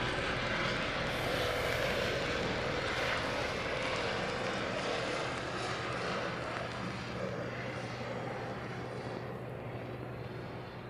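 A DHL cargo plane taxis at Honolulu airport, its engines giving a steady, loud, continuous roar that fades slightly toward the end, heard outdoors without talk.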